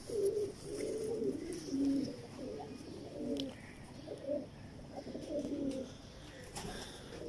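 Missay pigeons of the Mistriyun breed cooing steadily in repeated low, throaty phrases at close range, with soft chirps and background ambience throughout.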